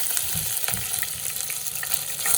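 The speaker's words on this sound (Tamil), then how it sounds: "ரம்பையில் கருவாப்பட்டை ஏலக்காய் கராம்பு கொஞ்சமாக போட்டுவிட்டு கருவேப்பிலை கொஞ்சம்" Cinnamon, cardamom, cloves and curry leaves sizzle in hot oil over a lowered flame for coconut pepper chicken, giving a steady close crackling hiss with small pops throughout.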